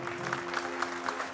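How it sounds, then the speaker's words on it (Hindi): Audience applause at a stage magic show, a short burst of rhythmic clapping with a steady tonal hum beneath it. "जोरदार तालियां बजाएं।"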